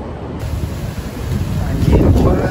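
Wind buffets the microphone with a rough, rumbling roar that grows louder toward the end, with rain likely mixed in, outdoors before a Harimau Malaya football match.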